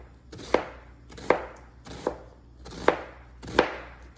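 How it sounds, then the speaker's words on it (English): Knife slicing half an onion on a cutting board, five sharp close chops in a steady rhythm, each with a short scraping lead-in, with no talk. "Gonna slice up half an onion."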